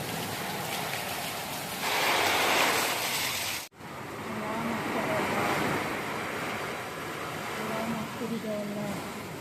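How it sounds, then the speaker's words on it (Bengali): Strong Kalbaishakhi storm wind roars in a continuous, close, loud rush. It swells in gusts and briefly cuts out before returning. "প্রচন্ড গতিতে বাতাস হচ্ছে।"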